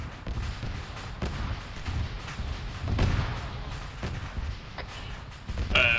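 Ammunition cooking off inside a destroyed vehicle in the military shooter Arma 3, heard as a dense, rumbling run of muffled blasts and crackling bursts, a few sharper cracks standing out and a louder flurry near the end.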